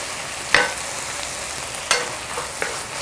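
Dried radish strips are stir-fried in a pan, giving a steady soft sizzle broken by three sharp scraping stirs of the spatula, close and fairly loud.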